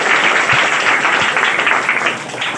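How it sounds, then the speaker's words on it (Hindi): Sustained applause from an audience at a school prize distribution programme, a steady dense wash of clapping throughout with no talking. "जोरदार ताली बजाइए।"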